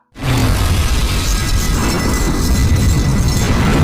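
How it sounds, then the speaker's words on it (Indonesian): A bomb hidden inside a roast chicken explodes in the action film Flash Point. Silence gives way to a sudden loud blast that swells into a sustained, rumbling roar and stays heavy to the end, with no voices. "ledakan pun terjadi dan menewaskan Inspektur Huang"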